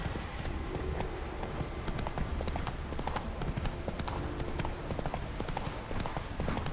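Horse hooves gallop steadily in The Witcher 3, a dense fast clip-clop that runs unbroken and loud throughout, with game ambience beneath.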